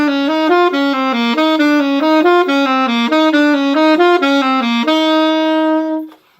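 Jazz dominant-tonality lick played as a quick run of clean single notes repeated in succession, ending on a long held note that fades, played alone with no talking.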